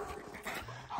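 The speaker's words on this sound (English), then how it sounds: "We got a little puppy in here today." Brief soft puppy whimper, a short high whine with faint panting, quiet and close.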